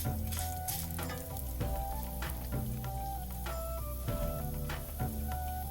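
Dry red chillies fry in hot coconut oil, giving a dense, continuous sizzle with crackling pops throughout, loud and close with no voices.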